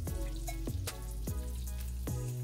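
Pork chops fry in hot butter in a pan, giving a steady, close sizzle with scattered pops and crackles and no voices.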